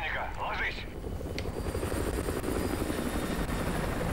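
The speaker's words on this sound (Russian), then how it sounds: "Территорию патрулирует вражеская вертушка." Enemy helicopter patrolling in Call of Duty: Modern Warfare 2 Remastered, a steady loud rotor and engine drone that fills the whole stretch while game voices talk over it.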